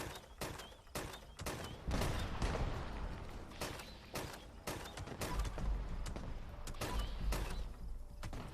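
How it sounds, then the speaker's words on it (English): Plasma thrower firing in Fallout 76, a rapid run of sharp bursting shots with mechanical clatter, loud and close, pausing briefly before more bursts. "The plasma thrower is not all that stealthy."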